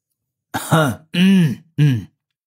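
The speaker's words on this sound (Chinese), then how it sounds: "他清了清嗓子" A man clears his throat in three short, loud, voiced bursts, close by, with brief pauses between them.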